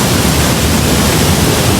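Water falls inside a cave near Pokhara as a loud, steady, broadband rush, close and unbroken throughout, with no other sounds.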